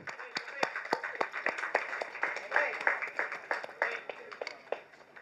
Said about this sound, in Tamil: So can we have a great round of applause?